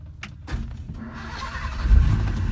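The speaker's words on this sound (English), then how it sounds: "We're going to start the car and hear how she sounds" A 1959 Simca Aronde P60 engine starts up and settles into warming up: a few faint clicks, then the motor catches and rumbles steadily close by, growing louder toward the end, with no talking.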